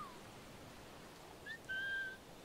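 A short two-note whistle in the Assassin's Creed IV Black Flag video game, sounding faint over a low hissing ambience and ending in a sustained clear tone.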